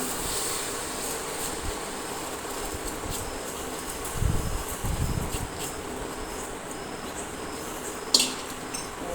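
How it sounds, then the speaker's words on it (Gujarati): Washed rice tipped into a cooking pot with onion, potato and tomato, giving a couple of soft, rustling pours midway through, followed later by a brief clink of the pot, over a steady background hiss. "અને હવે આપણે નાખીશું આ ચોખા છે ધોયેલા, તો તેને પણ આપણે ઓળી દઈશું"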